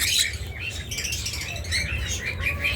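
A pair of blue opaline budgerigars in a cage give a steady stream of busy, high chirps and twitters, close and fairly loud, with light fluttering and shuffling under the calls and no voices.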